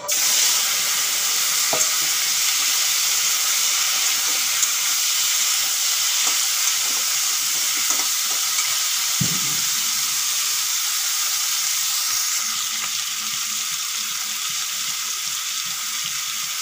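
Sliced raw green banana sizzling and frying in hot oil in a pan for a hilsa fish curry, a steady hiss with a few stirring clatters and scrapes throughout.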